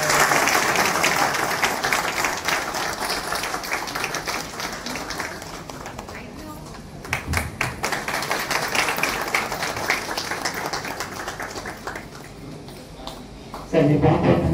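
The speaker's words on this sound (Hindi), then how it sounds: "सभी से अनुरोध तालियां बजाएं।" An audience at a school or college function applauds continuously after a request to the principal, a dense sustained wash of clapping that thins slightly midway and swells again at the end.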